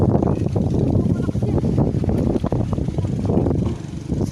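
Motorboat engine droning steadily as it passes on a river during a picnic river tour, mixed with wind buffeting the microphone and water noise, with people talking over it.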